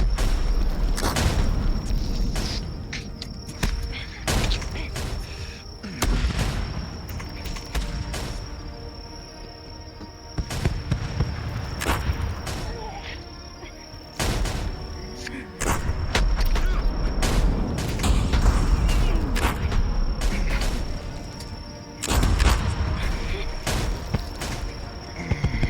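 Gunfire and cannon blasts in a VRChat medieval roleplay battle, a long irregular barrage of sharp cracks and deep booms, some close and loud, with shouted voices mixed in over a constant background hum.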